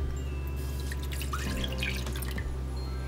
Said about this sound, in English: In a saucepan, you wanna add 1 cup of milk,